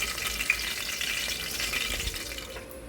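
Thinly sliced onion frying in a pan for a mackerel green fish curry gives a continuous, close, moderately loud sizzle with light stirring and no talk.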